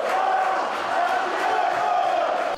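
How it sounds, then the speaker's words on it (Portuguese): A football stadium crowd chants and clamors for Adriano, nicknamed the Emperor, a massed roar of voices rising and falling steadily from the stands. "a torcida clamava pelo Imperador."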